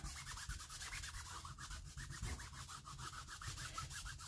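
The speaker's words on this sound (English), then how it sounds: "then you get a nice towelette, and then you sort of rub some of the other stuff off" A towelette rubbed back and forth over an old, ruined book cover, giving a steady, quiet scraping with a regular stroke rhythm throughout, close up and with no voice.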